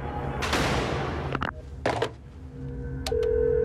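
A telephone rings in an office in a film scene, a steady electronic ring tone emerging near the end after a loud burst of noise and a couple of sharp knocks.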